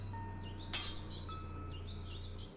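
Brief chirps from the family's pet bird in the horror game Angels of Death sit over a constant low ambient drone, with one sharp bright click near the start.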